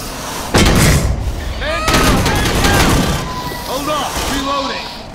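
Gunfire from the video game Aliens: Colonial Marines cracks in loud, sharp bursts and booms amid chaotic combat noise, with voices shouting over the action.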